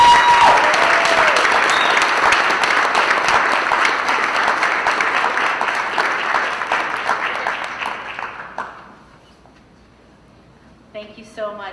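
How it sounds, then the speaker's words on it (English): A crowd at a school board meeting applauds for athletes and coaches, loud, dense clapping that gradually thins and fades out, followed by near silence and then a voice speaking briefly. "Let's have one more round of applause for all the wonderful athletes and coaches"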